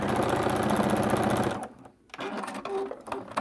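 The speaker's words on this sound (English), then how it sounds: "Go back to where I'd already stitched, line up, back stitch, and stitch a new seam." A sewing machine stitches a new seam on a scrappy quilt-as-you-go zipper pouch, running in a steady, close, loud buzz for about a second and a half before stopping and giving way to quieter handling sounds.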